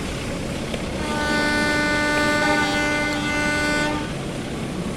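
The Serayu passenger train rumbles along steadily arriving at Cipendei station while a long horn sounds for a few seconds in the middle, then fades back to rolling rail noise.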